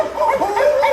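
At a comedy show, a person imitates frantic barking dogs with a rapid series of yelping, whining bark sounds, loud and close, over a noisy room.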